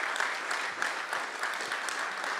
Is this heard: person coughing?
no